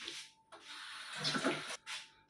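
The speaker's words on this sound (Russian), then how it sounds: "Сейчас я руки ополосну." Hands rinsed under running water while making shashlik, a soft, close splashing stream that starts, pauses briefly and resumes for a short burst.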